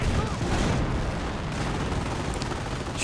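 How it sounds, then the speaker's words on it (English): StuG assault gun fire and explosions in a World War II strategy game battle with infantry and stormtroopers, dense rumbling booms and gunfire throughout, loud and continuous, with commentary talk mixed in. "now the Stug moves in, opening up on his forces"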